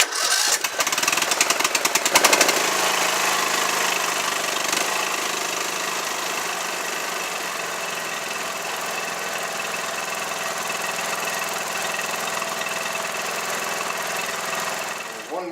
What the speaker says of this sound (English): So I'll fire it up and let it run for about 5 minutes and work its magic into the carburetor.